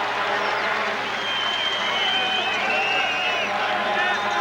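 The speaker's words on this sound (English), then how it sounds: "the crowd's getting into this game a little bit, and they're really trying to cheer on that defense" A large stadium crowd roars and cheers continuously, a dense wash of voices and whistles with announcer-like talk blended underneath.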